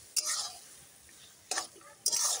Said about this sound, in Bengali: এখন ভালো করে নেড়ে দিলাম।